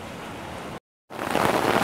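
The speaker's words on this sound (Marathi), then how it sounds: "समुद्र आत्ताही खवळला आहे" Rough, churning sea surf at Arnala Fort, a steady broad wash of waves and wind that cuts out briefly to silence, then returns louder and fuller.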